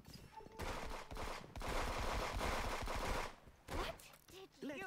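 Video game gunfire, including a Leica weapon, comes as dense bursts of rapid shots that fill most of the stretch, with short gaps, scattered louder hits and some voices mixed in.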